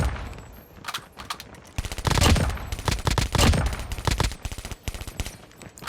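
Rapid bursts of automatic gunfire from a weapon in the mobile shooter Call of Duty Mobile crack loudly in quick clusters, separated by short gaps, with no voices over them.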